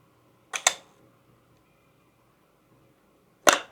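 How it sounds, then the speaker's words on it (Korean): A Leica M2 rangefinder shutter fires three times, a quick double snap followed by a single crisp click after a pause, close and dry in a quiet room. "셔터가 전 구간에서 고르게 작동하는지를 살펴봅니다"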